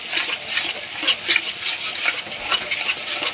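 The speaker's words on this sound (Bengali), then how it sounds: "এই পেস্টটাকে এখন একটু আমি ভালো করে কষে নেব" A turmeric spice paste stir-fried in a pan, with continuous close sizzling and a rhythmic scrape and clatter of the spatula stirring against the metal, loud and steady with no talking.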